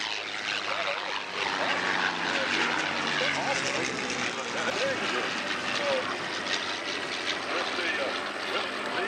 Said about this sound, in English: now that's a beautiful pass by our P-39